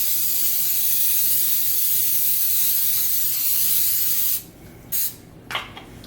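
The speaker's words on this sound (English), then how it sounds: "So you want to spray your pan really good, and you'll know from my other videos I like this coconut one." Coconut cooking spray hisses into a cake pan in one long close, loud, continuous spray, then stops and follows with two quick short bursts.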